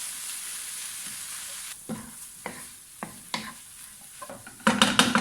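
A spatula scrapes and stirs cheese through a sizzling filling in a pan, quiet at first, then a run of distinct scraping strokes and a louder burst of sizzle near the end, with no voices.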